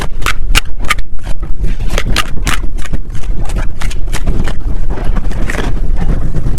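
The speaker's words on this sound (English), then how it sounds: "it's super windy outside" Strong wind roars and buffets the microphone in loud, rumbling gusts with sharp crackling bursts, steady throughout with no voices.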